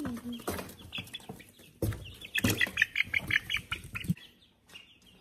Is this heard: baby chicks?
yes